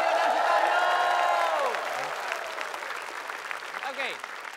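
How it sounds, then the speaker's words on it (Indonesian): A studio audience at a variety talk show gives steady applause for a pair of guests, loud at first and then easing to a lighter patter, with a host's voice over the top. "Tepuk tangan buat mas Sutaryo dan Sutaryo"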